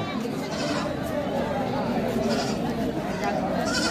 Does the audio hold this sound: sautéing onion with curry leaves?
no